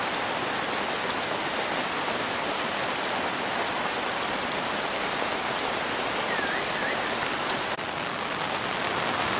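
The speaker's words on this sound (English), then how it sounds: "All you can see is rain." Steady, heavy rain pours down continuously, a dense hiss of drops hitting surfaces with no pauses or voices.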